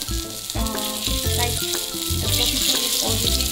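Food frying in a pan, a constant sizzling hiss running under louder tonal music or voices that dominate the mix throughout.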